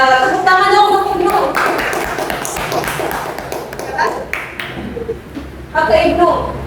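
A classroom of students claps for a teacher during an Indonesian microteaching lesson, with bursts of scattered hand claps and a teacher's voice speaking over and between them.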